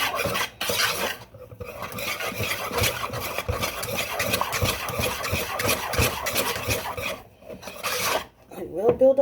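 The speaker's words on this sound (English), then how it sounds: "The secret to a nice smooth cheese sauce is you have to whisk" A whisk scraping rapidly around a pot of roux-based cheese sauce, rhythmic rasping strokes, close and loud, with brief pauses and a short clatter at the end.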